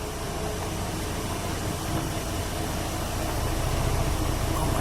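A 1959 Mercedes-Benz 220 S Coupe engine running quietly as a smooth, steady idle hum blended with broadband noise, even in level throughout with no talking.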